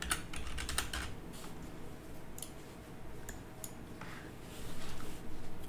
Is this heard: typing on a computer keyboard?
yes